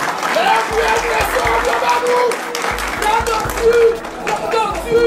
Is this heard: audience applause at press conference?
yes